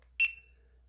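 One brief, high electronic chirp sounds from a motorcycle helmet camera as it stops recording, close by in an otherwise quiet space.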